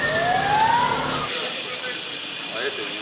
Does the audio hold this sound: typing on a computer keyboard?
no